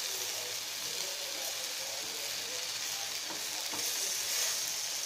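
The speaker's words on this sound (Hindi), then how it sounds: "देख सकते हो हमारा कैसे बन रही है ग्रिल पैन तंदूरी चिकन।" Tandoori chicken pieces sizzle on a grill pan with a constant soft, close hiss and a few faint crackles; no one speaks.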